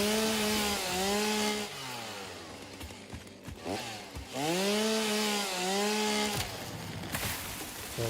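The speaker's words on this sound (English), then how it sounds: "Who's this madman cutting cacti down with a chainsaw?" A chainsaw cuts cacti in the video game Satisfactory: two long revving bursts whose engine pitch rises and falls, separated by a brief lower idle, loud and close, with no talk.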